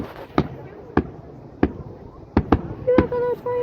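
Fireworks burst outdoors before a watching crowd, about seven sharp, loud bangs at irregular intervals, with a voice heard near the end.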